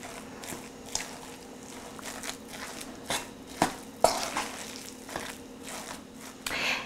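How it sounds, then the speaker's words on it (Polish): A seasoned filling for vegetarian cabbage rolls is stirred in a bowl, making intermittent soft crunchy, squelching scrapes and a few sharper knocks against a quiet background. "I wszystko dobrze mieszamy"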